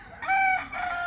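A chicken crows behind a rural café, a single brief cock-a-doodle call, moderately distant and clear over a quiet background.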